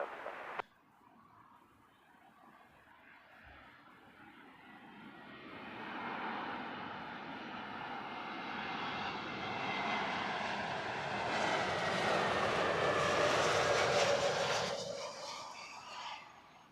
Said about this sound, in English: Lufthansa mixing it up for us today with the newer Neo aircraft with the older Lufthansa livery